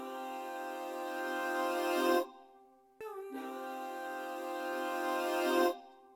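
A 100% wet reverb return, modulated by a Sound Toys phase plugin and heavily compressed, swells in two sustained tonal washes, each building and cutting off abruptly, with a short silence between them.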